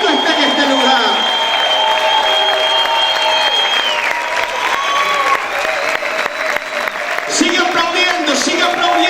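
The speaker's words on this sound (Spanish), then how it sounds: "Sigue aplaudiendo en esta hora." A church congregation claps continuously and loudly, a dense wash of applause with a raised voice and sustained tones carrying over it.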